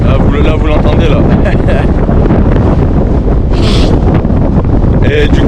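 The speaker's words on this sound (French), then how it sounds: "Par contre ce qui est chiant là c'est le vent" Strong wind buffets the microphone on the Trolltunga hike in Norway, producing a constant loud rumbling roar with occasional faint voices behind it.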